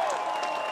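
Brief burst of crowd applause and cheering for a champion at a mixed pro event, a dense steady patter of clapping heard at a moderate distance.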